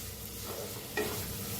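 Green chillies roasting with salt and turmeric in a pan, stirred with a utensil: continuous scraping and soft sizzle close up, with a sharper scrape near the end and no talk.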